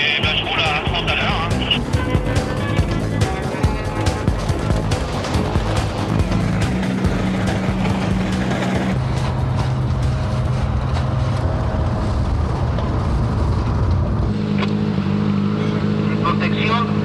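A Citroen WRC rally car in the 2005 Mexico rally creeps along slowly, its engine droning steadily at low speed beneath ongoing talk throughout.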